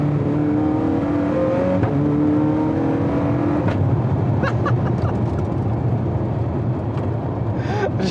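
Zenvo TSR-S supercar engine revving hard under acceleration, a loud continuous roar with rising harmonic tones early on, then a sustained rough drone with occasional clicks, heard from inside the car with no talking.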